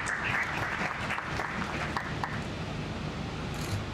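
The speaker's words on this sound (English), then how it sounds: "round of applause to the sponsors of the conference" Conference attendees at a closing session clap for the event's sponsors, producing a sustained, moderately distant applause with a few sharper individual claps standing out, and a faint voice underneath.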